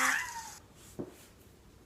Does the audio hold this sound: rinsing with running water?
no